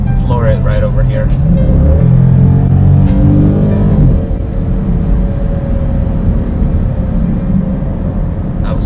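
A Jeep SRT accelerates hard at full throttle, its engine roaring loud and close with a rising pitch that peaks and then drops into a steady, heavy rumble.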